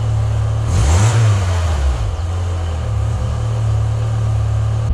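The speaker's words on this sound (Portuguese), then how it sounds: "Vou dar uma aceleradinha pra vocês darem uma olhada." A car engine idling cold and slightly fast, with one quick rev and fall of pitch near the start before settling back into a steady, loud, close idle hum; no talking.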